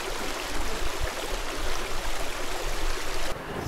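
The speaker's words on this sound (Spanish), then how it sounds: "el murmullo del agua. Claro, ¿cómo no se va a oír?" A stream flows beside a mill in the Fornela valley, giving a steady, close rushing murmur of water that stays loud and unbroken, with no talking.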